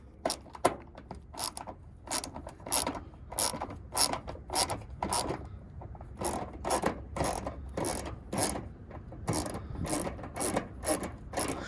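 A ratchet backs a 7mm bolt out of the headlight area of a 2007-2014 Chevy Tahoe, its pawl clicking in quick, close, repeated bursts of rapid ticks.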